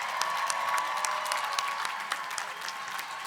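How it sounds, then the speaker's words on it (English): Crowd applause for Bachelor of Arts in Communication graduates at a graduation ceremony, steady clapping heard from a distance at moderate level without any voices. "Let's give a round of applause for all of our Bachelor of Arts in Communication graduates"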